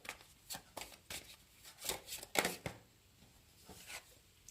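Tarot cards are shuffled and drawn by hand in a quiet room, a series of soft, close riffling and sliding bursts in an irregular rhythm, with no talking.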